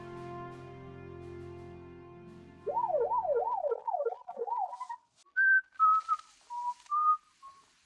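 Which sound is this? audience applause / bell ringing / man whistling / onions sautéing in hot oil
man whistling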